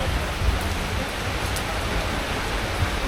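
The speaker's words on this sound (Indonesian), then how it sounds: "Hujannya tambah gede nih." Heavy rain pours down at Pasar Cideng market in Tasikmalaya, a dense, steady hiss of drops drumming on surfaces with no voices heard over it.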